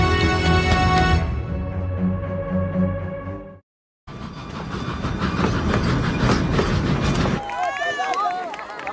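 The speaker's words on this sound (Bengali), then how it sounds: "জেনেসিস আর তার সহযাত্রীরা ট্রেনে উঠে পড়েছে।" A train runs along its rails with a steady rumble and rhythmic clickety-clack, heard close and fairly loud after a brief cutaway, with a voice speaking over part of it.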